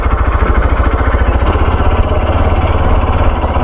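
A motorcycle engine runs steadily near a gurudwara, a loud, close, dense rumble that stays even throughout with no pauses and no voices.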